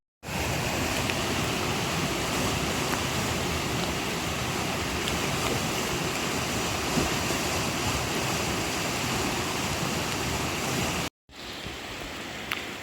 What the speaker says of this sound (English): This is the Ho River.